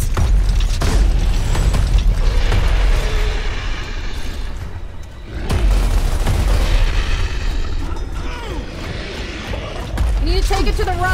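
Gunfire and booming impacts in the Gears of War video game, a dense, loud barrage running almost without pause, dipping briefly midway, with people talking over the combat.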